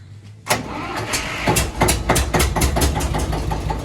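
A 1958 vintage 14-horsepower tractor diesel engine catches after a short crank, settling straight into a loud, steady knocking idle close by.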